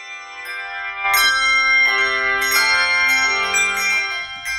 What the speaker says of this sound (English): Everybody loves handbells. I love the sound. It's a unique way of making music.